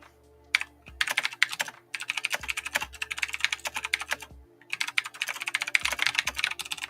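Rapid clacking keystrokes on a computer keyboard come in bursts separated by short pauses, with a few heavier thumps like the space bar or enter key, close and crisp, with no talking.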